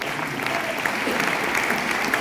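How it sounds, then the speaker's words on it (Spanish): A short burst of steady, dense applause from a church congregation during a Pentecost sermon, continuous and fairly loud. "Den un fuerte aplauso."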